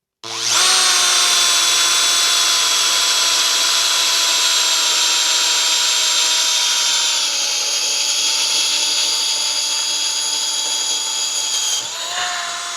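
A Makita DDF482Z cordless drill/driver bores into metal at low speed, giving a loud, steady, close-up motor whine that holds for about eleven seconds before dropping off at the end.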